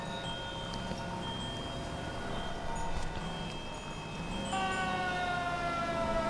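Ambulance siren in the L.A. Noire video game, a steady wailing tone with sustained harmonics that holds through the stretch and shifts pitch partway, heard over low driving rumble with no voices.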